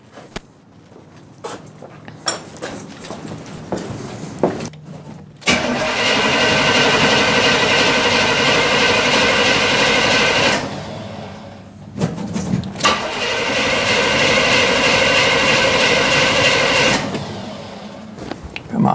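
An old car that has sat unused for a long time cranks hard, then catches and runs, first with choppy starter bursts, then two long sustained engine roars separated by a brief drop, loud and close.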